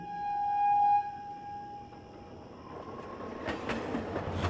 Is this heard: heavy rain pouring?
no